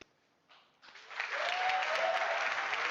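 A crowd at Ubisoft Forward breaks into applause, starting with a few scattered claps and swelling into loud, sustained clapping that fills the hall.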